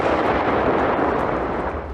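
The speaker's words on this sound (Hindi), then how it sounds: "धमाके की इस गूंज से पूरा शहर थर्रा गया।" A Second World War bomb detonates in Exeter, England. It comes across as a loud, sustained, broad rumbling roar that fills the whole short stretch without letting up, with no voices.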